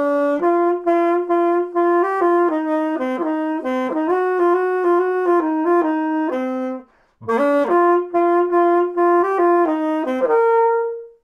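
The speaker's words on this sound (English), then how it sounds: "I'm obviously still in the process of learning, considering that squeak there." A beginner's saxophone plays a slow, halting melody of held notes with short gaps, a brief break near the end before the line resumes, with a faint squeak.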